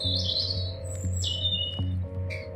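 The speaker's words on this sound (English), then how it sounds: "These are some loud birds." Lovebirds in The Darkside Detective video game chirp and screech loudly and continuously, bright calls layered over a steady low hum of game ambience, with no talking.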